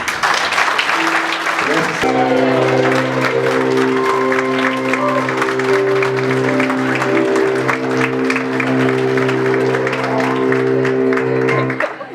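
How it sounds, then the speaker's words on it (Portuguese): Wedding guests applaud in a loud, sustained wash of clapping while music with steady held tones plays underneath, continuing without a break until it fades at the end. "Vocês podem dar um aplauso ao Senhor"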